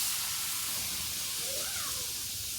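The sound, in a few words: leafy greens (shak) cooking in a pot, hissing steam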